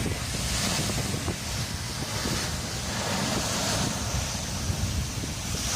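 Stormy wind and crashing waves on a lake around a small boat, a steady loud roar of rushing air and surf that never lets up.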